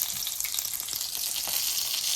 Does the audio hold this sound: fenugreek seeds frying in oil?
yes